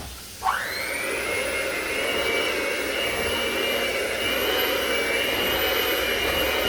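An electric mixer whirs steadily while mixing peanut butter fudge, starting with a brief jolt and then holding a loud, continuous high-pitched motor whine close by.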